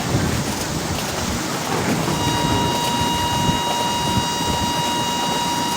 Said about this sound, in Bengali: এখন ট্রেন শুধু ছুটবে, 140-এর উপরে টানবো, শুধু দেখতে থাকো।